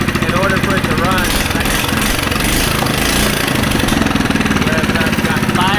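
A loud, rapid, raw-sounding lawn mower engine runs with no muffler, its crackling exhaust pulses steady and close throughout while the throttle governor is held open by hand.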